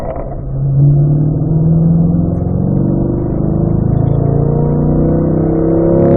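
A car engine accelerates down the straightaway of a race track during a performance driving school session, a loud close rising drone climbing steadily in pitch through its gears, with no talking.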